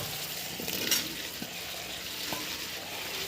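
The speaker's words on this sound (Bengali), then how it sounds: "এবার এটা মাংসর মতো ফ্রাই হবে পুরো মাংসের মতো ফ্রাই হবে" Fried soybean chunks and potato frying in spice masala in a pan, a steady close sizzle with a few scraping stir strokes.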